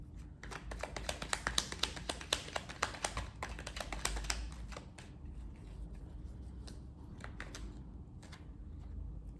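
Oracle cards are shuffled close by, a quiet run of fast crisp riffling and tapping clicks that thins out into scattered soft taps.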